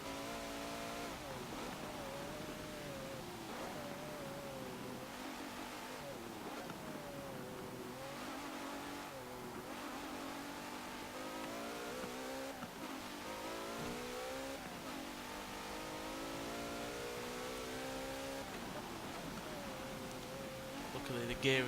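Engine note of a 2017 Maserati Levante S SUV in the racing game Forza Motorsport 7. It climbs and falls through repeated gear shifts and sustained revving at a moderate level, with a voice talking over it throughout.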